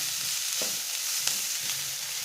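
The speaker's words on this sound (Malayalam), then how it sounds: "ഒരു 2 മിനിറ്റ് നന്നായിട്ടൊന്ന് വഴറ്റിയെടുക്കാം" Carrots and other vegetables sauté in a hot pan for a vegetable dosa filling, giving a steady, close sizzle with a few soft stirring scrapes throughout.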